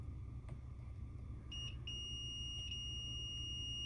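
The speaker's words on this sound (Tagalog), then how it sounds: "Dito, buzzer siya." A continuity tester's steady, shrill electronic buzz switches on partway through while a welding machine is checked, cutting out briefly twice, over a low background hum.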